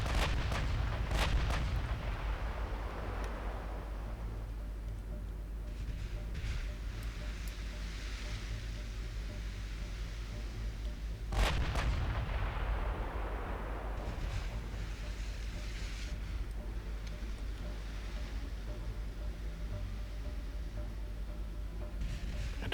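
Warship guns fire in the naval strategy game Ultimate Admiral Dreadnoughts, deep booming salvos at the start and again midway, over a constant low rumble of engine and sea ambience.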